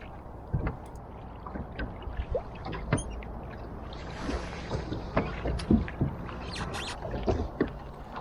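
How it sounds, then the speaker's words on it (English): A dinghy being rowed with oars, giving irregular knocks of the oars and splashes and dips of water, fairly close, over light wind noise. "So the oars came back out and it was back to rowing again."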